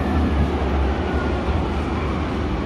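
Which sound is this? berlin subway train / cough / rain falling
berlin subway train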